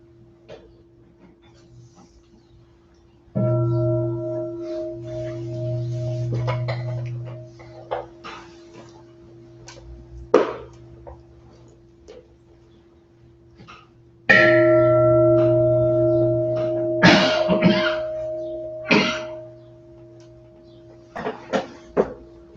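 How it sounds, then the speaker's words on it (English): A gong struck repeatedly at a nondenominational memorial light service, each strike a resonant ringing tone that sustains and fades, with scattered knocks and small handling sounds between strokes in a quiet room. "So we'll sound the gong 49 times."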